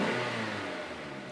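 A cold 2008 Mazda 3 GT engine revs with its electronic exhaust cutout closed, giving a steady, muffled, moderately loud engine roar that fades slightly over a second.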